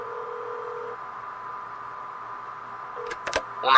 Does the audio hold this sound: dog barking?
no